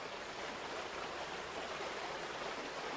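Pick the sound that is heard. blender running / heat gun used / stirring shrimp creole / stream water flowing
stream water flowing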